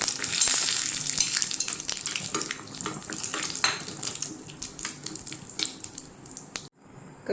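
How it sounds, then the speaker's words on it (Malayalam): Cashew nuts roasting in ghee, a steady close sizzle and hiss with light stirring scrapes throughout, fading slightly toward the end, with no talking. "കാഷ്യൂനട്ട് വറുത്തെടുക്കാം."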